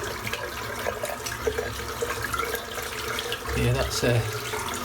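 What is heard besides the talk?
tap water rinsing soap out of a shaving brush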